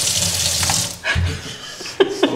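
Water pours steadily from a touch-sensor kitchen faucet into a sink, a close continuous splashing rush that briefly dips before resuming, with a couple of light clinks near the end.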